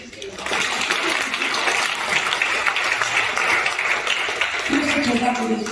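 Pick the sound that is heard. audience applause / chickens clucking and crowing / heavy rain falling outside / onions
audience applause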